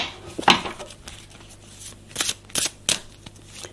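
Oracle cards are shuffled up close in a few quick riffling bursts separated by brief pauses, with no speech.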